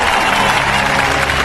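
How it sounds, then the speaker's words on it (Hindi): Dense, loud applause from a large audience, continuous clapping filling the short moment with no gaps. "बजाओ ताली।"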